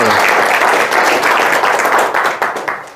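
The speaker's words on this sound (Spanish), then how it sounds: "quiero pedir un fuerte aplauso para mi amigo Carlos Peña, por favor" Audience at a talk bursts into loud, dense applause for the speaker Carlos Peña, a steady wash of clapping that tapers off at the end.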